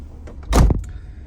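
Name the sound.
car door closing with a clunk on a Mercedes W124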